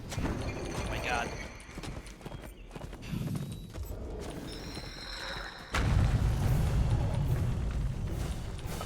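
Horse hooves clip-clop at a gallop in the Lord of the Rings Online game while riding Shadowfax, a steady rhythmic beat with occasional whinnies and a deep boom, joined by a louder rumbling stretch near the end; a voice talks over it.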